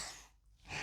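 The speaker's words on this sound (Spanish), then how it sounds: "este es estornudar" A single short human sneeze, a brief breathy burst heard alone and close, with no talking around it.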